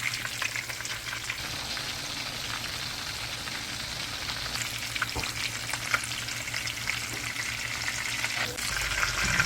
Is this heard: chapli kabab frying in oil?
yes